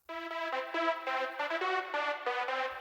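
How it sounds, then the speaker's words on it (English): Synth harmony lead layer heard on its own, a bright harmonic tone stepping through a melody of short sustained notes with clear rhythmic changes, loud and close with no voices. "And I've also added a harmony lead."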